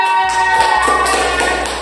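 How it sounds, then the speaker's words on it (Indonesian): Young children in a classroom clap briefly for a classmate named Fahima, a short burst of close, uneven claps over a steady background hum. "Tepuk tangan untuk Fahima"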